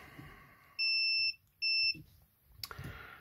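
Two loud, steady electronic beeps from a multimeter in continuity mode as its probes touch test points on a water-damaged Philips Sonicare toothbrush circuit board, each tone lasting about half a second with a short gap between, then a faint click.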